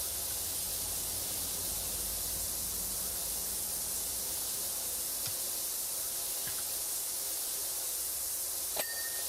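A pressure washer sprays steadily in the video game Power Wash Simulator 2, a constant loud hiss with no letup and a few faint clicks near the end.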